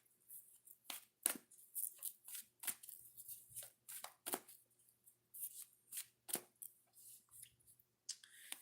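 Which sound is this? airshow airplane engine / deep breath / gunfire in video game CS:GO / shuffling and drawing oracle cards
shuffling and drawing oracle cards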